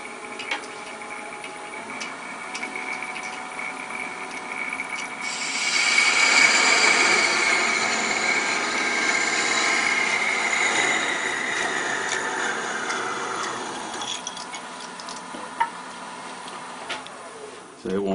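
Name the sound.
thin fluted parting tool cutting wood on a lathe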